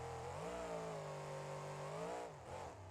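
A supercharged monster truck engine in BeamNG.drive revs high and holds a smooth rising whine, then drops back and briefly revs again, heard alone at moderate volume.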